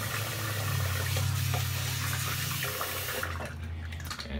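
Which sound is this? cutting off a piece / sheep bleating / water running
water running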